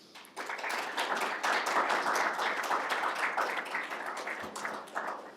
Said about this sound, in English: So big round of applause to them.